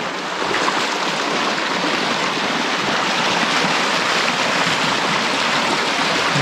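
River water pours in after a beaver dam breaks, making a loud, continuous, close rushing roar with no pauses from start to finish.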